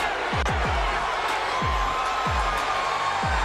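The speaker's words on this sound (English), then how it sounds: "The crowd's encouraging him." A boxing arena crowd cheering on a fighter, a steady roar of many voices with thumping low hits underneath.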